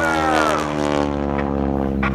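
A propeller airplane flies at an airshow with a loud, steady droning engine and a slowly shifting pitch as it passes, dominating the scene throughout.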